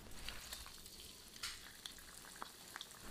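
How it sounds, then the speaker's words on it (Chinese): Pork slices for guo bao rou frying a second time in hot oil in a wok, a steady soft sizzle with small crackling pops scattered throughout, fairly quiet and close, with no talking. "再下锅复炸一下。"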